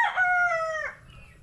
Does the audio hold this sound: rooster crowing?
yes